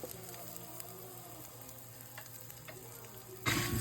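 Carrots stir-fried in a hot pan for Filipino-style mi goreng, a soft steady sizzle with light stirring, then a louder burst of frying near the end, quiet and with no talking.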